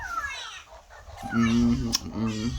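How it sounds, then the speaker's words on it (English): A rooster crows loudly and nearby in two drawn-out calls, following a stretch of quieter clucking and bird noise. "Noisy rooster, it do be like that."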